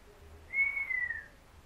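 A single sustained whistled note, slightly wavering and gliding down at the end, fairly quiet against a soft low background hum.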